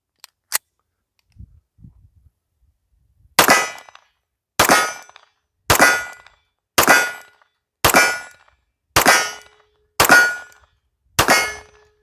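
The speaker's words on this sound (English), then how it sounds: "I'll just shoot one-handed" A Kimber pistol fired one-handed: eight sharp, loud shots spaced roughly a second apart, each with a short decaying ring, after a few faint clicks and handling sounds.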